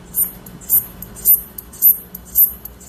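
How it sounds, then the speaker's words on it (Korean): A recorded katydid chirps from a phone speaker in regular pulses, about five short bright bursts spaced roughly half a second apart over a faint low background hum. "이게 우리가 알고 있는 그냥 배짱입니다."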